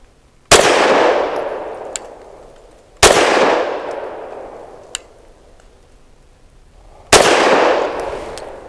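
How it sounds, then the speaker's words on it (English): A Walther P99 AS Final Edition pistol fires three sharp, loud shots with ultralight 65-grain lead-free rounds, spaced a few seconds apart, each decaying into a ringing tail, with faint metallic clicks in between. "Pretty soft shooting."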